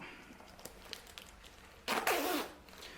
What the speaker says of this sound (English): So I will zip it up.